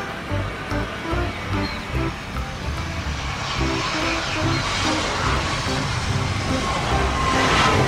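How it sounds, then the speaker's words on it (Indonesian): A toy airplane plays a continuous electronic aircraft engine drone with a steady tonal hum and pulsing rhythmic pattern, heard close among a collection of toy vehicles. "Yang ini pesawat terbang."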